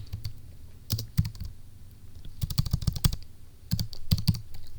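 Clattering keystrokes on a computer keyboard, close and crisp, in short irregular clusters with brief pauses between bursts of typing.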